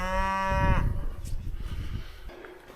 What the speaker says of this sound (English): Cows standing watching me.